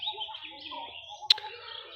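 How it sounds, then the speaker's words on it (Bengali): Several birds call in spring, overlapping chirps and whistled notes close by, with one sharp loud chirp standing out near the middle and quiet background otherwise. "বিভিন্ন রকমের পাখির ডাক"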